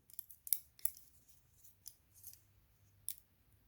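Scissors make a few faint, sharp snips through knitting yarn, irregularly spaced and close, in an otherwise quiet room.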